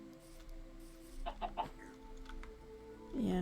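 Chicken clucks from the Minecraft video game rise near the end, loud and close, over a steady low background hum with a few softer mid-clip blips.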